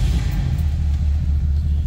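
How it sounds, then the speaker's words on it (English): A 1967 Ford Galaxie two-door hardtop engine idling close by, a steady deep low rumble that holds evenly throughout. "let's go ahead and fire this up so you can hear it run"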